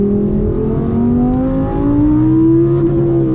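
Audi R8 V10 Plus engine revving hard up to its 8,500 rpm rev limiter on an alpine drive, a loud, continuous rising howl that climbs steadily in pitch with no talk over it.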